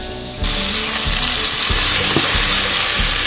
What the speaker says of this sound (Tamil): தக்காளி ரொம்ப நல்லாவே வதங்கிச்சு.